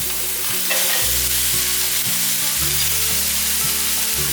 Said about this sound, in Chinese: 快速的拌炒。